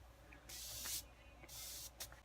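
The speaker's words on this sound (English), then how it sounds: "I'm going to go over it again with my setting spray" Two long, close misting sprays of a setting spray, each a steady hiss about half a second long, followed by a couple of short quick spritzes.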